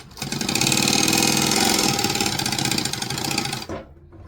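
A sewing machine stitches a handmade bottle holder in a fast, even run of needle strokes, close and loud for a few seconds before stopping abruptly, followed by a quiet pause.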